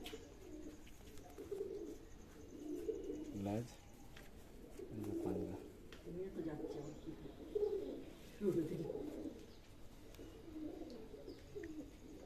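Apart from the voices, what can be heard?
pigeon cooing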